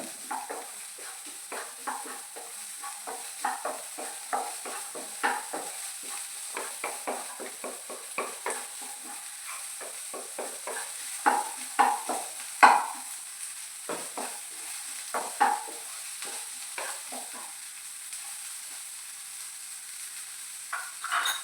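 Mushroom masala with chopped onion being stirred and fried until browned, a soft continuous sizzle broken by frequent rhythmic scraping and tapping of a spoon in the pan, close and steady.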